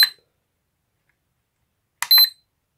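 An Imax B6 battery charger gives short, high electronic key beeps, one at the start and a quick double beep after a long silent pause.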